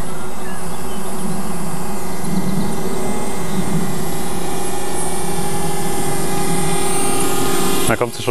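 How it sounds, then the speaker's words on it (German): A steady, loud buzzing whine of a DJI Spark quadcopter's rotors hums close by as it flies back, with a faint voice under it, ending with a brief clatter. "die Drohne kehrt zu mir zurück"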